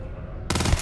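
A sudden sharp burst of gunfire in the Starfield video game breaks a low hum, loud and close, over in under half a second.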